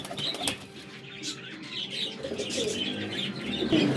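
A Kasuri flying pigeon beats its wings in bursts of flapping, with soft cooing and light chirps around it at moderate volume.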